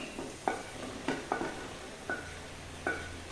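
A spoon scrapes and knocks around a pan while eggplant curry with chicken masala is mixed, giving several distinct clinks at irregular intervals over a faint, quiet sizzle, with no voices.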